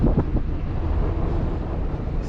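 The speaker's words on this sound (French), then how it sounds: "On a 8 nœuds de vent pour l'instant, mais bon, on est dans l'avant-port." Steady wind buffeting a sailboat in the outer harbour as it leaves Port-de-Bouc in about 8 knots of breeze, a continuous broadband rush with faint water noise and no voices.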